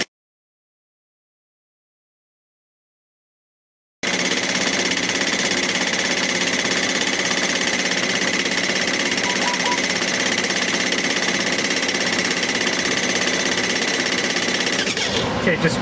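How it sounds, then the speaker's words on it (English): Stall buffet rumble in a Boeing 747-400 cockpit, a dense, continuous rattling vibration that begins abruptly after silence and holds steady and loud, with voices partly under it. "It was starting to pick up stall buffet"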